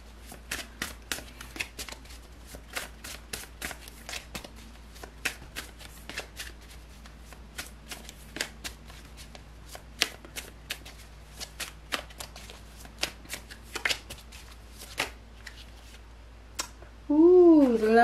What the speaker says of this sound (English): as I was shuffling, before I started the reading